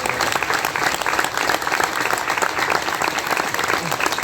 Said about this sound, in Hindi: तो ये जो सत्संग में ताली बजती है